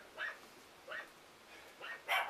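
Dogs bark in a house during a domestic violence call, with several sharp barks spaced out over a couple of seconds, somewhat distant and muffled, the last one louder.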